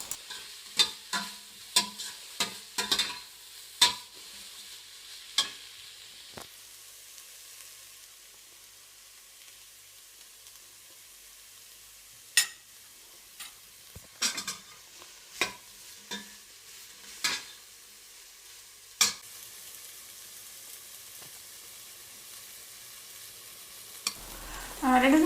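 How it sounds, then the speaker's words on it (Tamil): Chopped capsicum with salt is stir-fried in a pan for egg fried rice, with quiet sizzling broken by sharp, scattered clacks of the spatula, busier at the start and then sparse. "இப்போ இதில் நறுக்கிய குடைமிளகாய், கொஞ்சம் உப்பு போட்டு கிளறுங்க."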